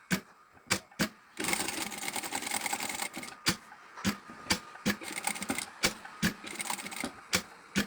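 A sewing machine stitching along the edge of fabric: short mechanical bursts and clacks, then a sustained fast whirring run of stitching, followed by more brief stop-start stitches, close and clear with no talk.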